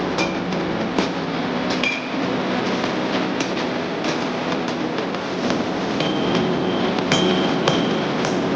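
Hammer blows forging the tip of a steel blade for a through-tang knife, a busy metallic clatter of frequent strikes and clinks over steady shop noise throughout.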